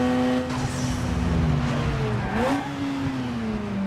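A Toyota Supra engine from Need For Speed Underground 2 drones steadily at high revs, its tone sliding and briefly shifting pitch as the car accelerates, loud and continuous with no talking.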